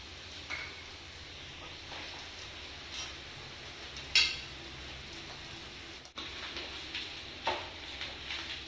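Spatula stirring rice into fried capsicum and egg in a pan, soft scraping and light clinks with a faint sizzle, a sharp metallic tap midway, no talking.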